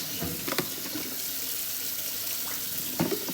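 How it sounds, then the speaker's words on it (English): Tap water runs steadily into a sink as hands are scrubbed with a zinc brush in a kitchen, with a few louder splashes and scrubbing bursts over the constant flow. "Wash my hand with my brush"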